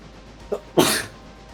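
One short sneeze bursts out near the microphone during a livestream, preceded by a brief sharp intake, loud and isolated with no talk over it.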